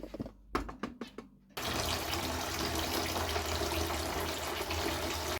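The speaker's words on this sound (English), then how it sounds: "I like to use the fish water for my plants. I think it's really good for them, so I just pour that into there" Aquarium fish water pours onto houseplants as a steady, loud splashing stream after a few brief knocks and clunks, continuing without pause to the end.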